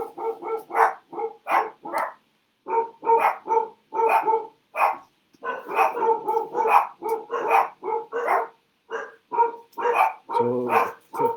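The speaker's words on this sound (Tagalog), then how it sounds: "Narinig niyo po yung mga aso namin" Several dogs bark repeatedly in quick, insistent volleys, fairly close and loud, with brief gaps between runs of barks and a higher yelp near the end.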